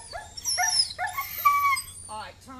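A Rhodesian Ridgeback with aggression issues whimpers and whines in high, wavering cries close by, ending in a few short yelps, with no talk.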